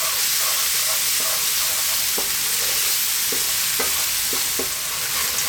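Onions sizzling steadily in a pan over medium heat with salt and black pepper for shakshouka, a loud continuous fry with occasional scraping stirs of a utensil, close throughout.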